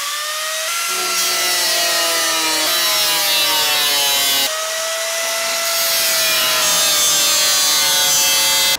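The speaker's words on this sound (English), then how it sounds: "This is a grinder." An angle grinder cuts through metal framing inside a travel trailer during a remodel, a loud, steady, high-pitched whine that dips briefly at the midpoint and then resumes at full strength.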